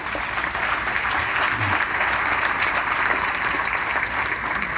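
Steady applause from a crowd at the grand opening ceremony of the National Medal of Honor Heritage Center in Chattanooga, a dense even wash of clapping that holds at the same level throughout.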